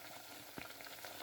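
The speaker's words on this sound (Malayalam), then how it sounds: "നമ്മുടെ പഴംപൊരി ഇപ്പോൾ നല്ലപോലെ മൂത്ത് വന്നിട്ടുണ്ട് കേട്ടോ. ഇനി നമുക്കതിനെ ഒന്ന് എണ്ണയിൽ നിന്ന് എടുത്ത് മാറ്റാം" Pazhampori plantain fritters frying in oil give off a soft, steady sizzle with faint pops, low in level and heard alone.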